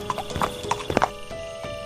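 A horse carrying a prince clip-clops along with a quick run of close hoof knocks and a brief whinny, over a soft background hum.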